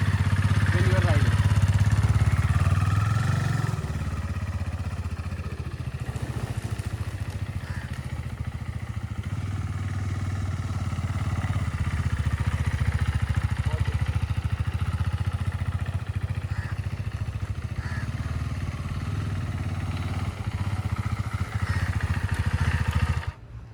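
KTM RC 390 sport motorcycle, a 2018 BS4 single-cylinder model, droning steadily while being ridden, its engine note loud and continuous with wind rumble and a slight dip and rise in revs.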